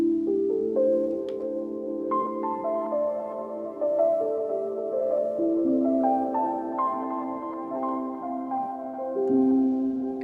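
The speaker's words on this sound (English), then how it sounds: "another sound here is this lo-fi pluck" A soft, lo-fi plucked piano plays a slow sequence of sustained chords, warm and slightly muffled, alone without any talking.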